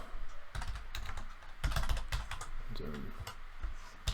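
Rapid typing on a computer keyboard while entering a multiple-choice quiz answer, a close run of uneven clicks with brief pauses, loud and continuous.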